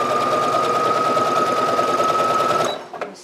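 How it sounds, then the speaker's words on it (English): A sewing machine runs a steady close stitching burst along a pocket bag seam, a loud even whirring hum that stops abruptly near the end, followed by a couple of small clicks. "setting this up to stitch here, reverse stitch it, just a regular stitch, 3/8"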